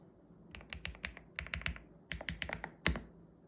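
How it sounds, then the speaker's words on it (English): Close typing on a Mechlands Vibe 99 mechanical keyboard with PBT keycaps and Cream Mint switches: quick bursts of crisp clacky keystrokes in short irregular runs separated by brief pauses, no voices. "the switches underneath they call Mechlands Cream Mint switches. And you can take a listen to them."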